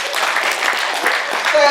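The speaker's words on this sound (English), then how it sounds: "Give them a big round of applause" A post-prom crowd of high school students claps in a broad, steady wash of applause for about two seconds, with a few voices mixed in under the clapping.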